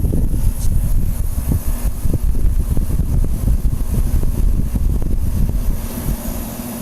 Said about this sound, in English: Fan motor's pretty quiet at first, but it gets louder after a while. But that compressor sounds great.